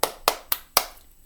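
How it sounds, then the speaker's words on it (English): Four sharp hand claps in an even, deliberate rhythm, close and crisp, each with a brief ringing decay and no talking. "Clapping."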